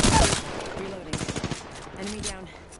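Video game gunfire crackles in an opening loud burst, then a quick rattling string of automatic shots and a fainter volley, with voices talking over the shooting.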